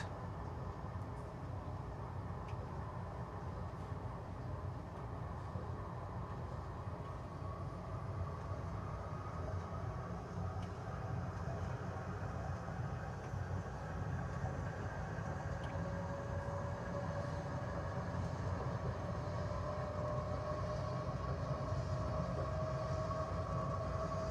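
An O-Train light rail train leaving Sherbourne Station in Ottawa rumbles steadily with a low continuous drone and faint rising whine, constant loudness throughout, no voices.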